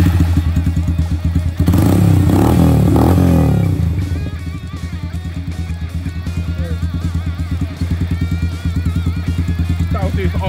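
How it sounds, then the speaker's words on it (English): A Yamaha YBR125 motorcycle fitted with a 150cc big-bore kit and fuel injection idles steadily and loudly up close, with a brief blip of revs early on before settling back to a low, even idle. "idle's a bit low, let's just turn that up a little bit"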